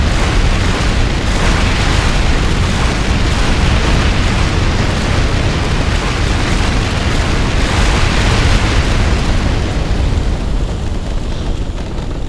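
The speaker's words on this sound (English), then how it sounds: "Okay, the explosions are done." Loud, continuous roar of massive nuke explosions in the Rival Rebels game mod, booming and rumbling without pause for the whole stretch, dense and overwhelming.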